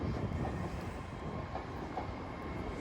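A Great Western Railway train pulls away from Didcot Parkway station on the Great Western Main Line, a steady broadband rumble of rolling stock sustained at even loudness throughout, with no voices.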